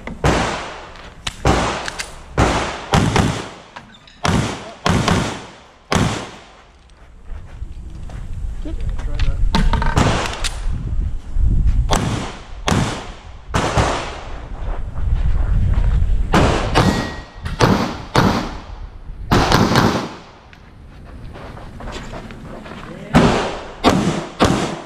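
Sharp pistol shots ring out during an IDPA shooting stage, a quick string of loud, sudden cracks followed by later bursts, with people talking in between.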